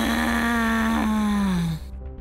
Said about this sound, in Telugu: ఒక విచిత్రమైన, గుండెల్లో దగులు పుట్టించేలా ఊపిరి తీసుకునే శబ్దం వినిపిస్తుంది